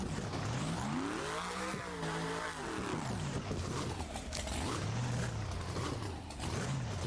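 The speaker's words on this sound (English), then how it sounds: "Revving the engine at him." El Toro Loco monster truck engine revving in a competition arena, loud rising and falling roars with a steady rumble throughout, swelling twice in pitch before settling into a lower idle growl.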